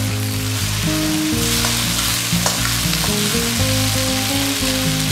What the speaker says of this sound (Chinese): 开大火翻炒均匀